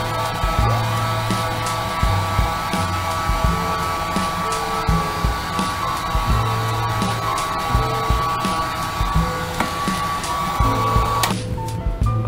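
A heat gun blows hot air to shrink a new wrap onto a battery, a loud steady whooshing roar with a constant motor whine, close and unbroken until it cuts off near the end.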